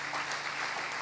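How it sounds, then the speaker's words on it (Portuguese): A church congregation applauds during a sermon, a brief, even burst of many hands clapping at moderate volume with no voices over it. "Você pode aplaudir o nome de Jesus?"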